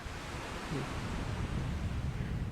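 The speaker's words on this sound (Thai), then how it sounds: "อันนี้คือหาดพลา หาดพลาบ้านฉางนะคะ" Steady evening beach ambience at Hat Phla in Ban Chang, Thailand, a continuous wash of surf and wind rumble with no clear breaks, moderately loud throughout.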